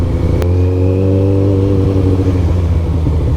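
A Kawasaki ZZR1400 (ZX-14R) motorcycle engine revs loud and close for a power wheelie attempt, a steady, strong droning roar held throughout with a brief clack near the start.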